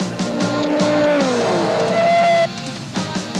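Race cars in a 1993 Wesbank Modifieds round at Goldfields, Audi among them, roaring close past the finish line with rising and falling engine tones and tire squeal, over continuous race commentary.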